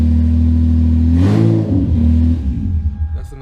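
A Lexus SC300 with a newly installed loud exhaust idles with a steady drone, then revs sharply once and falls back, the rasp settling into a lumpy idle.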